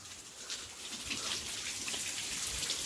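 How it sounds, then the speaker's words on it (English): Steady rain patters on a sidewalk at about 9 o'clock, an even wash of close, light drops that stays constant throughout, with no talk. "here comes the rain."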